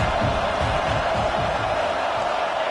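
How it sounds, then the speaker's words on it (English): Stadium crowd noise from the College Football 25 video game, a steady dense roar of many voices that stays loud and unbroken throughout, with no distinct cheers standing out. "This crowd bringing the energy and noise early."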